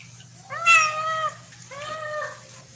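A house cat gives two clear meows, the first longer and louder, the second softer after a short pause, close to the microphone over a faint low hum.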